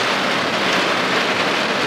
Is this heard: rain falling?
yes